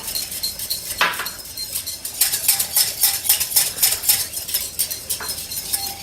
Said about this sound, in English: As I whisk, the oil gets incorporated into the emulsion.